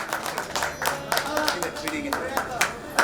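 Scattered, uneven clapping rises from a staff gathering at a state transport bus depot, with individual claps standing out over a murmur of voices talking nearby.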